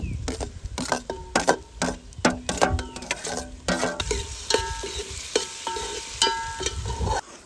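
Tomato is added to a cooking masala paste and stirred in a frying pan, giving a series of clattering spoon scrapes and knocks over a soft background sizzle.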